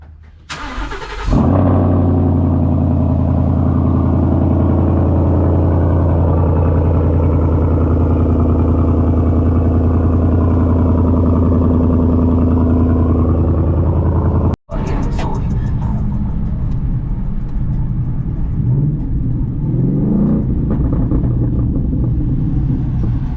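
An Audi R8 with a gated manual and straight-piped exhaust cruises with a loud, steady engine drone and deep low rumble throughout. The sound breaks off briefly partway through and then resumes at a rougher, more varied level.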